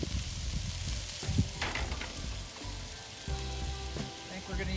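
Rice frying with grapeseed oil on a teppanyaki griddle grill, a steady moderate sizzle with scraping and stirring, no voices over it.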